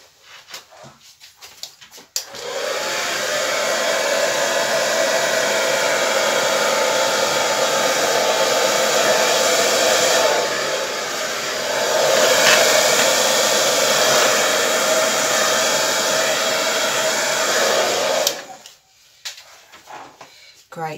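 A hair dryer blows across acrylic paint in a Dutch pour. Its loud, continuous roar switches on after a short pause, dips briefly midway, then cuts off near the end.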